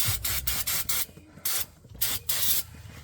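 Brake cleaner sprays from an aerosol can onto a 1979 Chevy C10 transmission in a string of short, loud hissing bursts with brief gaps between them, close up and with no talk.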